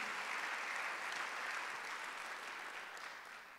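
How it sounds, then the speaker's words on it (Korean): A church congregation at a Sunday worship service claps together in a burst of applause that starts full and gradually tapers off. "지금 박수로 하나 돌리세요."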